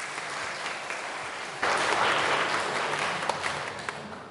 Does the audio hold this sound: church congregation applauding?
yes